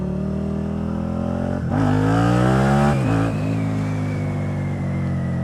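A Suzuki Gladius SFV650 V-twin motorcycle accelerates hard in first gear, its loud, close engine note climbing steadily in pitch, dipping briefly, then rising again before settling.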